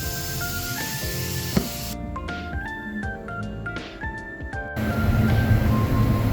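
A spray gun applies primer to a car panel, its steady hiss swelling loud and broad in the last seconds after a stretch of tonal background music.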